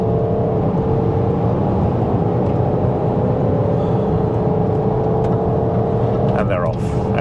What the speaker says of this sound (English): I am going to just put my foot down and let you hear the turbos.